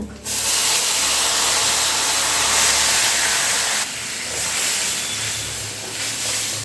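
Dal poured into hot oil tempered with dried chillies, bay leaf and panch phoron for a sour tok dal sets off a loud, steady, hissing sizzle that eases slightly partway through and carries on without talk.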